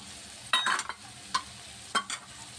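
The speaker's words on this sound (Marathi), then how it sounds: "आता हे असं छान परतून घेते" Peas, capsicum and salt being stir-fried in a pan for pav bhaji, heard as a few scraping stirs with soft sizzling between them at close range.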